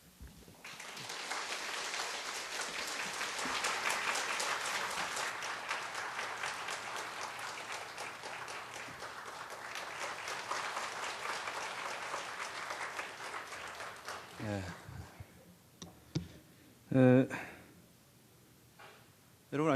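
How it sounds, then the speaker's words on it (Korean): At a church mothers' prayer meeting, an audience applauds steadily and fairly loudly for about fourteen seconds to welcome a guest speaker, then the clapping fades and a voice begins talking. "박수로 인사를 대신하도록"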